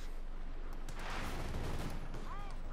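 Machine gun fire and distant explosions in the World War II strategy game Company of Heroes 2, a muffled rumbling battle bed with scattered bursts, moderately faint under ambient noise.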